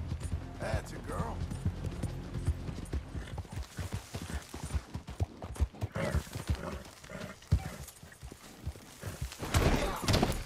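Horse hooves clip-clopping in the open-world western game Red Dead Redemption 2, a steady rapid galloping rhythm with creaks of tack, close and fairly loud throughout, with no speech over it.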